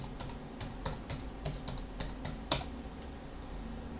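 Someone types a router admin password on a computer keyboard, giving a quiet run of irregular close key clicks with one sharper tap partway through.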